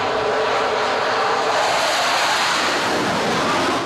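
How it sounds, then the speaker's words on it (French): A Rafale jet is launched by a steam catapult from the deck of the aircraft carrier Charles de Gaulle, heard as a loud, continuous broadband roar of engine and rushing air that holds steady throughout. "on va mettre l'avion sur la catapulte et on envoie de la vapeur dans des cylindres, sorte de grandes sarbacanes,"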